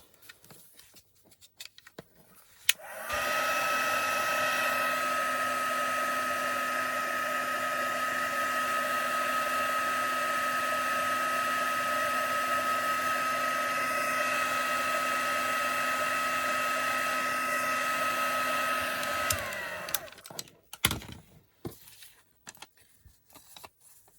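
A hair dryer blows on a paper craft piece for a junk journal. It clicks on and runs as a loud, steady, high-pitched whine for about sixteen seconds, then switches off, with soft handling noises before and after.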